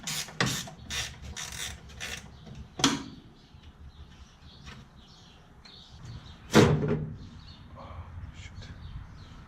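Bolts coming out of the gas pedal of a 1970 Plymouth 'Cuda, sharp ratchet clicks and metallic clacks in brief bursts, a few loud ones standing out among quieter fiddling, close up with no talk.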